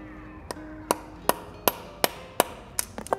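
A hammer strikes metal engine parts eight or nine times at a steady pace during a blown 2022 GR86 FA24 short block teardown, sharp ringing hits close up, speeding into quicker taps at the end.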